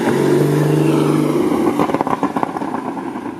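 A 2016 Porsche Cayman GTS with a 340 hp naturally aspirated engine and manual gearbox, a loud steady engine tone that breaks into a shift, then pulses and rises again as it accelerates.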